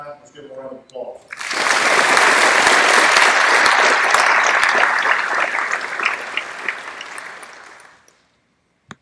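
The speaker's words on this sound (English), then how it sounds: "Let's give them a round of applause." An audience at a sheriff's office academy graduation breaks into loud, sustained applause that swells quickly, holds steady for several seconds, then fades out to silence.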